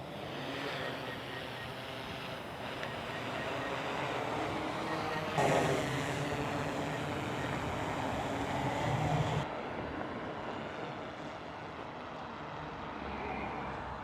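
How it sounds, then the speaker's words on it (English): A DJI M30T drone spins up its rotors with a steady, rising whine and airy rush that holds for several seconds, then cuts to a quieter hum outdoors with wind noise. "Drone is firing up."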